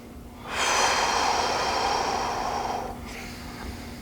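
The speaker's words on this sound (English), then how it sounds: "Long exhales." A single long, forceful exhale during a one-on-one gym training session, a close breathy rush lasting a few seconds before trailing off, followed by a fainter breath.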